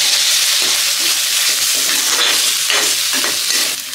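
A masala macaroni pasta mixture with popcorn stirred in a pan, giving a continuous close frying sizzle with soft scraping strokes of the spoon across the pan, with no talk.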